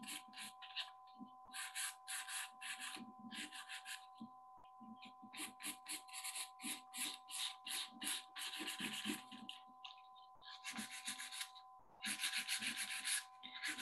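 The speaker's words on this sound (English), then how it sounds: "file in a downward motion to create a nice bevel on my free edge" A file works the free edge of an artificial nail in downward strokes at a 45 degree angle, making faint, close, rhythmic scratchy rasps in quick clusters over a steady electronic hum.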